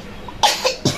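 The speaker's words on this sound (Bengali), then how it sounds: "কাশিও চলে আসছে" Indoor coughing at home in a kitchen, two sharp close coughs in quick succession, loud against a quiet room.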